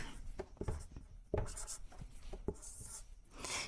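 A pen scratches across paper while a timetable is written out, producing quiet, close strokes and small taps in an irregular rhythm with short pauses between words.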